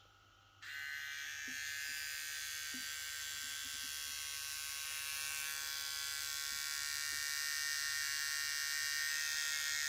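A VGR V393 electric blade shaver switches on with a click and hums steadily with a high buzzing whine, close and continuous.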